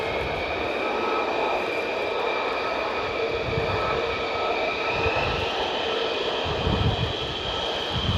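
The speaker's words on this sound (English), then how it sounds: "These things shake the room, man, as well, these F-35s." An F-35 Lightning II fighter jet at RAF Lakenheath roars loudly and continuously, a dense broadband engine noise with a steady whine on top and slight swells near the end.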